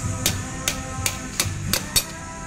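A hammer, with a screwdriver as a drift, taps a brake pad retaining clip on a Toyota Innova Reborn: six sharp metallic strikes at a steady rhythm, close and clear, over a low hum.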